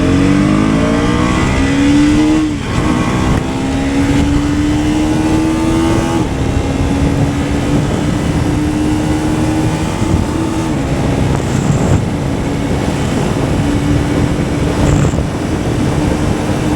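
A KTM Duke 250 third-generation motorcycle engine (LC4C single) revs loud and close, pitch climbing and falling in repeated sweeps with a sustained exhaust drone throughout, no talk over it.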